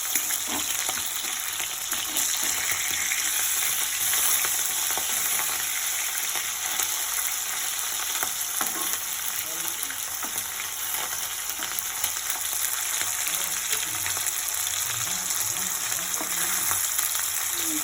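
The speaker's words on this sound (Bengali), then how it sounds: "মাছ ফেলে তারপর ভাজা হোক।" Steady, continuous sizzling of fish frying in hot oil, with faint crackles and pops throughout and no talking.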